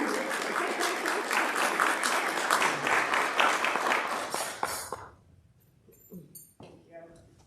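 An audience at a Sunday service claps and cheers loudly for a speaker being welcomed, a dense, full burst that stops abruptly near five seconds, after which a few scattered sounds and a voice remain.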